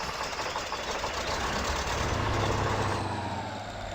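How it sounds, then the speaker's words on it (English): A Kraz 7E 6316 truck engine in the game Spintires cranks and settles into a loud, steady diesel idle with a low rumble, heard alone throughout. "We'll start the engine."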